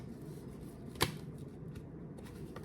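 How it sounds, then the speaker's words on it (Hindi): Tarot cards being handled and laid out on a surface: a single soft snap or slap of a card amid faint shuffling and low background hum, quiet and close. "मैं सारे कार्ड्स निकाल लेती हूँ"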